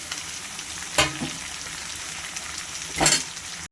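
Chopped tomatoes dropped into a hot pan, giving a steady broadband frying sizzle with two brief louder bursts of hiss as the pieces hit the oil.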